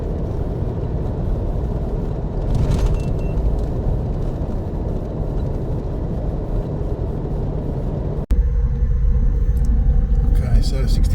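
Toyota Fortuner engine pulling hard up a rise with a caravan in tow, a steady close drone and low rumble that holds throughout, a brief click near the end, with cabin road noise.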